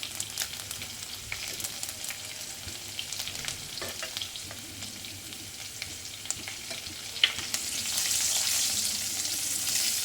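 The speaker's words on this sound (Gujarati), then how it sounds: "હિંગ, લસણની કળીઓ લઈ લઈશું. તમે લસણ ના ખાતા હોય તો સ્કીપ કરી શકો છો. લસણ બરોબર સતરાવા દઈશું." Garlic cloves and asafoetida sauté in a pan with cumin seeds, giving a steady close sizzle and frying crackle that grows a little louder toward the end, with no talking.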